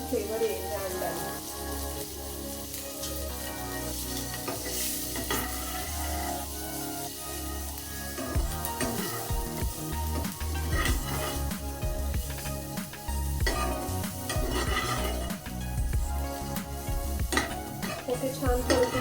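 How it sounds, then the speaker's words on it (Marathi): Eggs frying with garam masala in a pan, with a continuous crackling sizzle, repeated scraping and stirring of a spatula against the metal, and occasional knocks, all close and steady throughout. "ते छान परतून झाले, मी काढून घेते एका डिशमध्ये."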